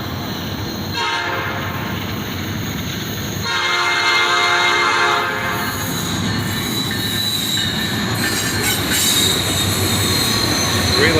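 A Norfolk Southern freight train led by three locomotives, with a blue DC-to-AC rebuilt distributed power unit, rolls past at Washington Street: loud, continuous rumble with squealing wheels and bursts of horn, close and steady throughout.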